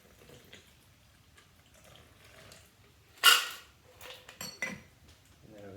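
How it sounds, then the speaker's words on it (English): A shaken cocktail poured from the shaker into a glass makes a brief, fairly loud splash, followed by a few light clinks of ice and glass against a quiet room with no talking. "So let's pour it in the glass."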